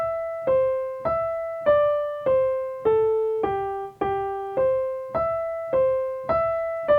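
The Amazing Grace melody played as a string of evenly spaced notes, each the same length, clean tones that each decay before the next, about a dozen notes in a steady plodding pulse, alone and clear.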